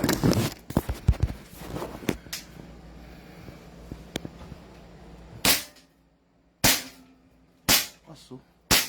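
A gas airsoft pistol fires several sharp, loud shots spaced about a second apart after a stretch of quieter handling clicks, with near-silence between the final shots.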